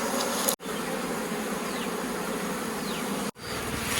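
Steady, dense buzzing of honeybees fills the clip, close and continuous, broken by two brief cutouts of silence.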